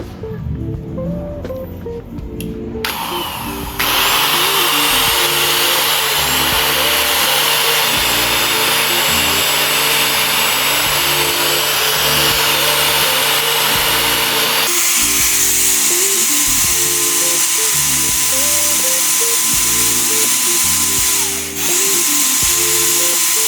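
A power tool polishes a stripped metal 1911 airsoft magazine with a loud, continuous high whine close up, shifting pitch as pressure changes.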